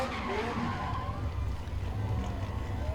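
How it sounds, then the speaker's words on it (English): A 34 Ford Coupe Legends race car burns out on the front straightaway of a speedway, a loud continuous engine roar with skidding tire noise and wavering pitch throughout. "Driving a 34 Ford Coupe model, Spencer Saunders does the burnout on the front straightaway."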